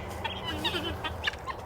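Guinea fowl on a farm give short, scratchy clucking calls in a loose cluster, fairly close and mixed with low rumbling background noise; a voice is faintly present.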